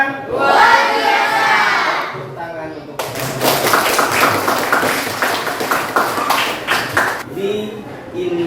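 Middle school students in a classroom shout together, then burst into loud, rhythmic group clapping mixed with cheering voices, close and energetic, settling into quieter chatter at the end.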